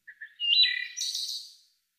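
A short field-recorded bird call: two faint opening chirps followed by a brighter, rising tweet that fades out over about a second, heard alone.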